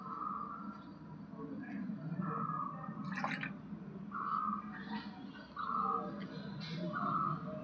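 Kesoraj leaves are rinsed in water with soft repeated splashing and dripping at close range, in short bursts with a faint bright clink in the middle.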